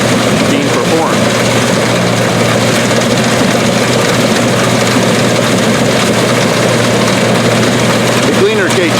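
An Allis-Chalmers Gleaner K2 combine harvesting beans in a test plot gives off a loud, steady, heavy engine drone with a constant low rumble. The noise holds throughout, close up, with no break.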